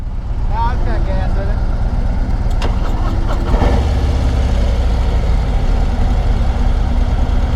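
A 2025 Harley-Davidson Road Glide motorcycle engine running again after stalling, a loud steady low rumble throughout with people talking briefly over it near the start.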